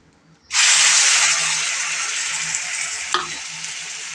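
Marinated chicken hits melted butter in a pan, bursting into a loud, bright sizzle after a quiet start and then hissing steadily, with one brief clack of stirring.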